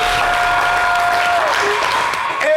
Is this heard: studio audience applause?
yes